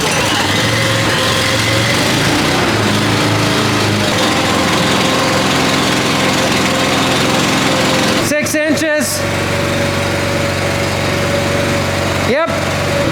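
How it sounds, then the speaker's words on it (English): An engine started to move a jack runs steadily and loudly throughout, with a few brief clicking interruptions partway through; talking can be heard over it. "we got to start the engine to move the jack"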